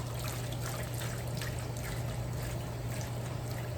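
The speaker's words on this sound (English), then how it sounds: "So strain your noodles, and you go ahead and rinse it off a little bit." Cold tap water runs steadily over strained noodles in a kitchen, making a continuous close hiss and splash with a low hum underneath and no pauses.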